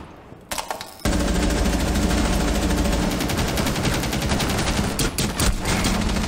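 Automatic gunfire in the video game Rainbow Six Siege erupts after a brief quiet start, loud sustained bursts of rapid shots filling several seconds with short breaks toward the end.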